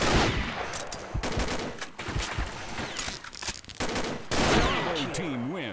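Desert Eagle pistol fire in an online shooter match: a dense run of sharp, loud shots with short gaps between them, fairly close, with players' voices mixed in now and then.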